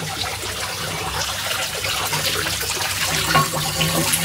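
Water pours from a tap in Simdega, Jharkhand, a steady close rushing flow that keeps going evenly with no talk over it.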